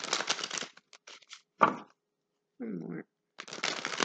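A deck of playing cards being shuffled in quick, close riffling bursts, separated by short pauses and a brief spoken remark.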